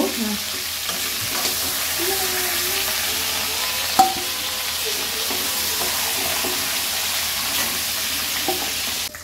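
Onions frying in oil in a pan for a capsicum chicken curry, with a steady close sizzle and hiss throughout and a single sharp knock partway through.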